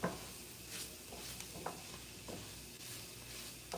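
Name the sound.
stirring flour in olive oil in a pan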